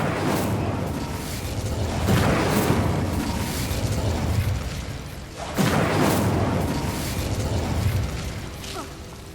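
The Incendio fire spell is cast in the Hogwarts Legacy video game, heard as two loud roaring blasts of fiery explosion several seconds apart, each swelling and then rumbling down, with no one talking.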